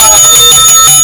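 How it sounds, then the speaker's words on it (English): Bells are rung on a live calculus call-in show to reward a caller, a loud, continuous bright metallic clanging across the whole clip, with no voices. "We're going to have bells for you."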